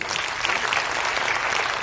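A seminar audience breaks into dense, steady applause: many hands clapping together in an even wash of sound that stays consistent for about two seconds.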